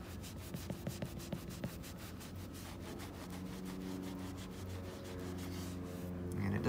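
Clay towel wiped over rust-spotted car paint, giving a steady run of soft rubbing and scrubbing strokes, close up, with faint low tonal hum underneath.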